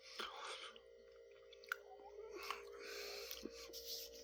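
Close crunching of Doritos Golden Sriracha corn chips being chewed, a few crisp bites and chews scattered over several seconds at low volume with faint background hum.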